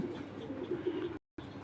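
Pigeons at a pigeon farm coo softly and continuously in the background, with a short silent break near the end.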